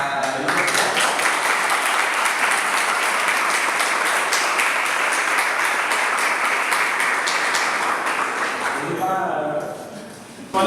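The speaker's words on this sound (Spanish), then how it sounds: "todo el aplauso para..." Sustained audience applause after a talk at an agronomy faculty venue, loud and dense for about nine seconds before fading out.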